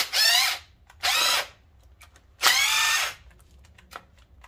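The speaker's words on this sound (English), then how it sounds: "We'll just use the impact to take all this thing out" A power impact tool loosens bolts on a Chevy Optra 2.0L engine in three loud, close bursts of whirring, separated by short pauses with faint clinks.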